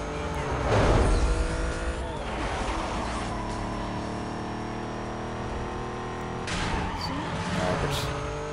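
Race cars roar and tires squeal in Need for Speed Most Wanted, with loud skidding bursts near the start and again near the end over a constant engine drone. The player's car is ramming through traffic.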